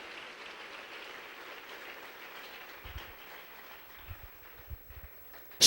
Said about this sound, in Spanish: Denle un aplauso al nombre del Rey.